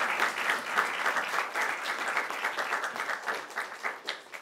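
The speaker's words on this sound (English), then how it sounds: "A big round of applause for them who have so passionately led this event." An audience at a university conclave applauds the student organizers of a two-day event, a dense, sustained burst of clapping that continues for several seconds before easing slightly.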